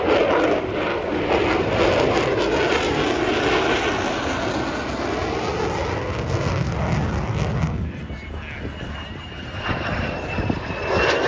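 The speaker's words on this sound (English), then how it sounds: "Next was a particularly exciting performance from two F-35C Lightning IIs." Two F-35C Lightning II fighter jets roar steadily at an air show, a loud continuous engine rumble that dips slightly and swells again as they pass.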